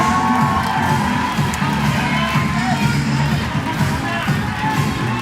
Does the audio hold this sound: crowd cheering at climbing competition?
yes